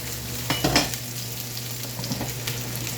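Onions sizzle in a hot pan for a mushroom burger, a steady close frying hiss with a brief clatter of a utensil against the pan early on.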